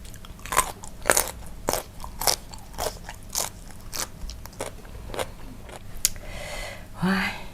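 Shrimp marinated in fish sauce being bitten and chewed, a series of close crunchy bites and wet chewing at a steady pace, with a brief voice near the end.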